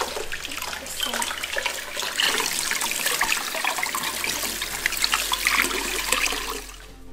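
Water runs steadily from a tap while slime is washed off, a continuous splashing rush that fills the whole stretch without pause, close and fairly loud, with no talking over it.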